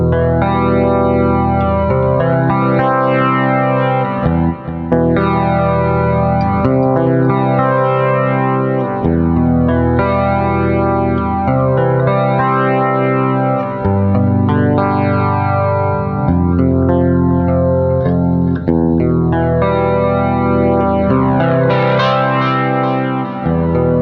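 Clean electric guitar through the Nembrini Jazz Chorus amp app on iOS, played as sustained chords with a shimmering chorus effect and light echo, loud and continuous with no talking.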